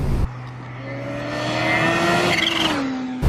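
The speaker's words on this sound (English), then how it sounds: "That little noise from the blow-off valve, which you probably can't hear, but you can hear it on my flyby" A supercharged 2019 Kawasaki Ninja H2 SX SE motorcycle roars past at close range, engine pitch rising then dropping as it goes by, with a brief whooshing blow-off valve release near the end.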